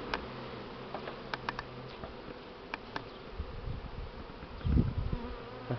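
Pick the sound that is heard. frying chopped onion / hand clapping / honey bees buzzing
honey bees buzzing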